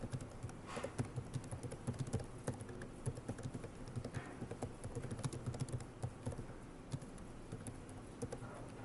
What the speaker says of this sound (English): So I'm typing